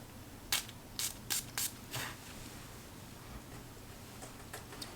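A perfume atomizer fires quick, sharp hissing sprays of Rirana Salty Citrus fragrance onto a hand. About five close bursts come in a rapid cluster, followed by fainter clicks of handling in a quiet room.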